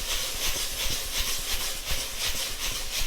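Soy sauce and port wine cooking off in a hot wok, a dense continuous hiss and sizzle with steady bubbling texture, loud and close, no voices.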